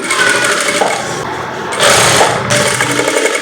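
A sewing machine stitches the curved princess-cut seam of a short gown, a continuous close, loud whirring rattle that runs the whole time with a slight dip and surge midway; no one speaks.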